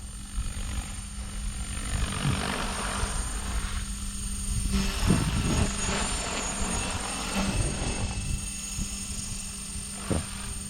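Blade Fusion 550 RC helicopter in flight, its rotor whine and buzzing drone holding steady at moderate distance and swelling and fading slightly as it maneuvers, with a few faint background noises.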